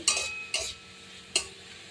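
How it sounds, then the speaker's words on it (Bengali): Three brief scraping stirs over a faint sizzle, as boiled bathua greens are tossed in a pan, quiet and close. "ভেজে নেড়ে চেড়ে নামিয়ে নেব"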